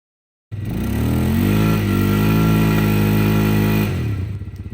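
A Polaris Sportsman 500 ATV engine starts up and runs loud and close with its wheels spinning, a steady buzzing drone that holds evenly for several seconds, then eases off and sputters near the end.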